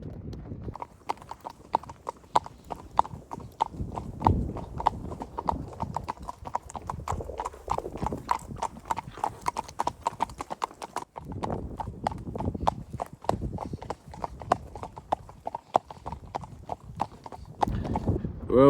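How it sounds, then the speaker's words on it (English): A horse's hooves clip-clop steadily on an asphalt road, close and clear in a continuous walking rhythm, with faint background sounds and a little quiet talk. "Riding Denver today."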